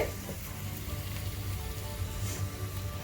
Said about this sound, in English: In the same pan I have fried the onions and the masalas.